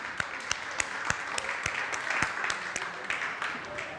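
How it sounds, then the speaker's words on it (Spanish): Audience applause at a talk on focused transparency with a gender perspective, welcoming the speaker Esther Kaufman: moderate, fairly steady clapping with a few sharper individual claps standing out, lasting a few seconds. "Un aplauso para ustedes."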